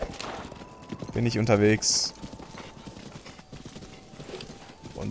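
Horse hooves clip-clop in the open-world game Zelda: Breath of the Wild, a steady trotting rhythm running underneath someone talking in German throughout.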